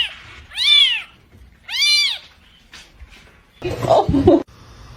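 A cat gives two clear, drawn-out meows close by, followed by a rougher, noisier yowl and a brief rustle.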